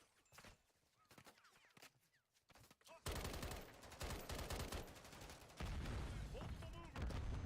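Gunfire in the video game Wayfinder: scattered sharp shots at first, then sustained loud bursts of rapid automatic fire that grow denser toward the end.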